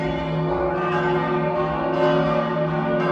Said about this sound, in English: The bells are ringing, as you can hear.